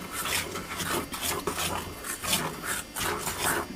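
Biscuit dough is stirred together in a bowl after oil and milk go into the flour, giving a steady rhythmic scraping and rasping that repeats for several seconds, close up and fairly quiet, with no voices.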